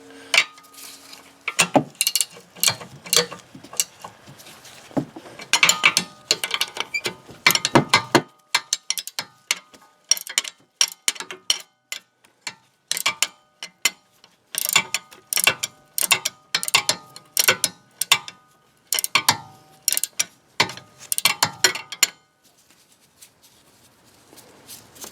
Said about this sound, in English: Use the ratchet inside.